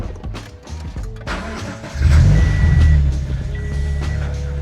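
A Scion FR-S/Subaru BRZ with a freshly repaired exhaust leak cranks briefly, fires up loudly and settles into a steady, close idle, with a chime beeping intermittently in the cabin.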